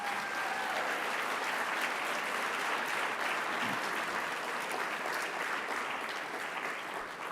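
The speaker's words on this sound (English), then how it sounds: "a big round of applause for Jim Scott" Audience clapping at a 30th anniversary health awards celebration as a chairman is honored, a steady dense wash of applause from a sizable crowd that holds for several seconds and tapers slightly at the end.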